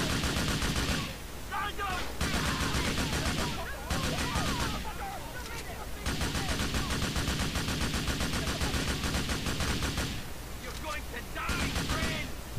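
Gunfire in Grand Theft Auto IV: bursts of rapid shots and fusillades come in several loud stretches separated by brief pauses, with speech and game sounds mixed in.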